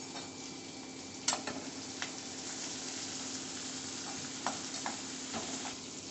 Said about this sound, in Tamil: அடுத்தது கருவேப்பிலையும் சேர்த்துட்டு நல்லா வதக்கிக்கலாம்.